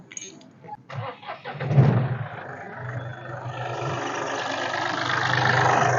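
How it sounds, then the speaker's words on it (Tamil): A Mahindra Bolero SUV engine cranks and catches, then settles into a steady, growing rumble that holds to the end, loud and close, with no talking. "வண்டியோட இன்ஜினை பார்த்தீங்கன்னா நான் ஸ்டார்ட் பண்ணி காட்டுறேன் நீங்கள் அப்படியே லைவா பாருங்கள்"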